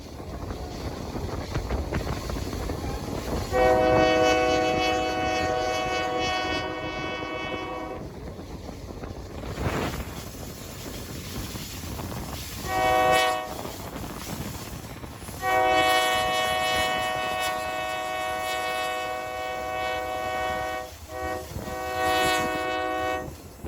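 A diesel locomotive pulling a passenger train rumbles steadily with rail clatter, its horn blaring loudly in long blasts twice, close by, with no talking.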